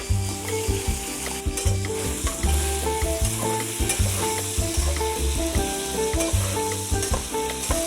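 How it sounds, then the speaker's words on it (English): Meat browning in a pan with crushed garlic, thyme and a bay leaf, a steady loud sizzle and frying crackle with frequent stirring and scraping clatter throughout, no talking. "So now that the meat is colorated, we have given a first browning to the meat."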